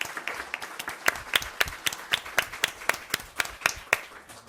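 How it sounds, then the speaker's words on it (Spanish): A small audience claps after a round-table discussion on information and social networks, producing quick, evenly spaced individual claps that sound close and moderately loud, with no talking over them. "Entonces, por favor, un aplauso"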